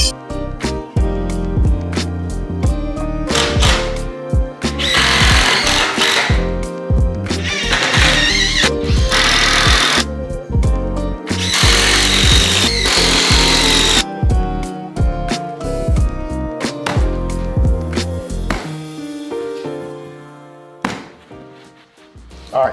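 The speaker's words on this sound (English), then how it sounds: "we multi-purpose the sawzall for the metal cutting and wood" Sawzall reciprocating saw cutting through metal and wood, loud buzzing bursts of sawing that stop and start in uneven stretches, with clunks and handling knocks in between.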